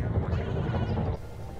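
Sheep in the Skylanders: Spyro's Adventure video game level Perilous Pastures give a loud, close bleat that wavers for about a second and then cuts off abruptly into quieter game ambience.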